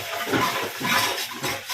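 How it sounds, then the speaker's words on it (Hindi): Metal pots, pans and dishes clatter and clink in a short, busy burst at home, mixed with a watery, rinsing wash. "ये है बर्तनों का म्यूजिक।"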